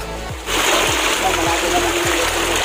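Water at Sitio Ilaya rushes and splashes in a steady, loud roar that swells in after the first half-second, with low voices underneath.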